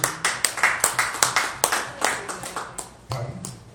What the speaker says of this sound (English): let's give another round of applause for Trustee 2